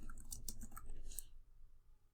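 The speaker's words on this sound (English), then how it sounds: "we start typing into the search bar on Amazon" Quick keystrokes on a computer keyboard while typing into an Amazon search bar, a short cluster of sharp clicks that stops and leaves near silence.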